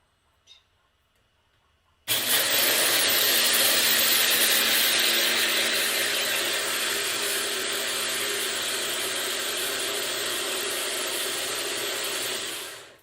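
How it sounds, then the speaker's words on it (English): A blender starts abruptly and runs with a loud, steady whirring roar for about ten seconds before cutting off. "let's blend it up"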